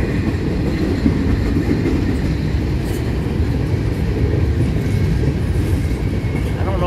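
A CSX train rolls through a rail yard in Effingham while switching tracks, a loud, steady rumble of railcars with faint clickety-clack and occasional high wheel squeal, no voices.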